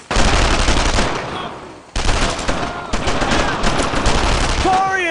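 Dense machine-gun and rifle fire erupts in a World War II battle in Brothers in Arms: Road to Hill 30, loud continuous volleys broken by a short pause, with shouted voices over the gunfire.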